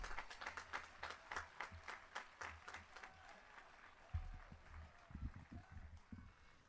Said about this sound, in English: another big round of applause for our band under the direction of Mr. Williams and to all of our seniors